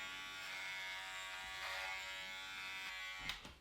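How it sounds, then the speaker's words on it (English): Steady electric buzzing of hair clippers running close by for several seconds, with a brief louder knock near the end. "I'm bringing him closer to the noise"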